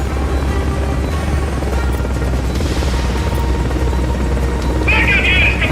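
A helicopter in the video game Metal Gear Solid Peace Walker gives off a steady, loud rotor drone. It carries on throughout, with brief game effects over it near the end.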